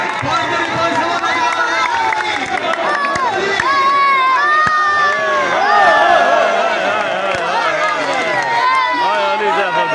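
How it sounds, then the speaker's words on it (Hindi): Dense, lively crowd noise at a village volleyball match in Mandi Bahauddin, Pakistan, with steady shouting and cheering from many spectators and a few sharp claps, while voices call out over the din throughout. "ये अब्दुल्ला के नाम से तालियां मारे"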